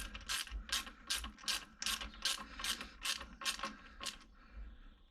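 Screws are tightened on the throttle of a Triumph Thruxton R motorcycle, with about nine evenly spaced ratcheting clicks close by, each a quick crisp burst, in a quiet setting.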